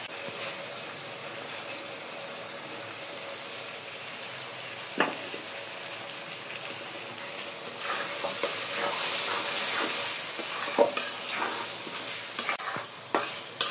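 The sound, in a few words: red lentils being fried and stirred with spices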